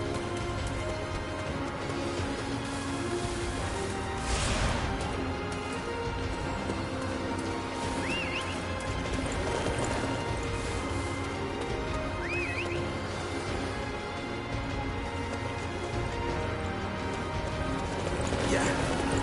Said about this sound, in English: Let's go, horsey!